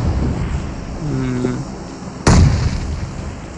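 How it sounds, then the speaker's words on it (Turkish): A grenade in the PUBG Mobile battle royale game goes off with a sudden loud blast partway through, after faint in-game hum and a brief tonal sound. "Kim bomba atıyor?"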